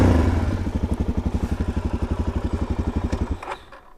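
A motorcycle engine thumps in a fast, even rhythm close by, loud and steady, then cuts off abruptly near the end, leaving only faint background noise.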